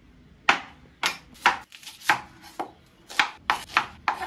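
A kitchen knife chops onions on a board at home in a steady run of about nine sharp, close knocks, some in quick pairs, with no talking.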